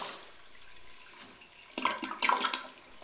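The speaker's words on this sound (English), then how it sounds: "Look at the flush." Faint quiet background gives way to a sudden rush of water, an older Kohler Highcrest toilet flushing with gurgling and splashing close by, the water angled slightly.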